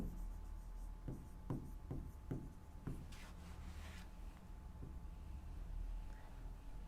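Pen or marker strokes scratch across a surface while a maths theorem is written out, a run of short quiet taps and scrapes followed by a few longer rubbing strokes, faint and close.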